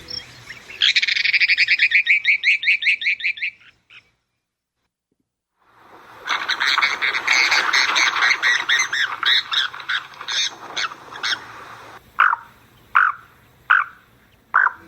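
A mountain plover gives a rapid, evenly pulsed trill, then after a silent pause a harsh, buzzy stretch of calls, ending with several short, separate chirps, all clear and close.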